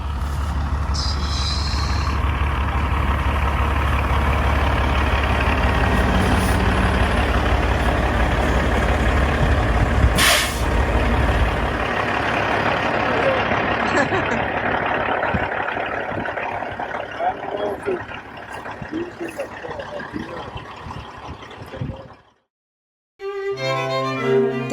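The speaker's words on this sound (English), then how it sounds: "It's a big truck." A big truck pulling a trailer rolls in at a farm in Maine, its heavy low engine rumble loud and steady, with a sharp hiss of air brakes around the middle before the motor settles and cuts off near the end.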